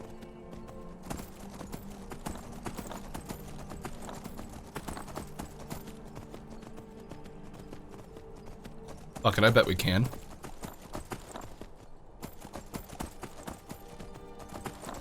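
Hoofbeats from a Skyrim horse clop along continuously, heard mostly under a voice, with a brief louder burst partway through before the steady clopping resumes.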